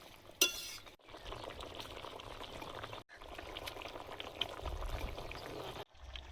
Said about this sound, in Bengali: আলু সেদ্ধ হয়ে গেছে, এবার মাছ দিয়ে দেবো।